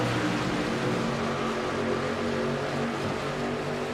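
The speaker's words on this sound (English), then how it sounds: "Love hearing those engines spool up and the guys shifting gears, getting up to speed." Race car engines droning as the field gets up to speed at Atlanta Motor Speedway after a green flag, a continuous steady mechanical roar heard at a distance, without clear individual gear shifts.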